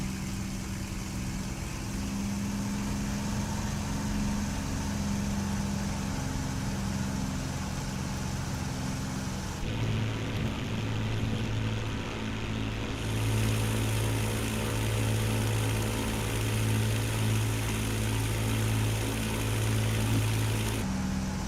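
Steady drone of a P-51 propeller aircraft engine in Microsoft Flight Simulator 2024, a continuous tonal hum that shifts pitch partway through and keeps running without a break, with no voices.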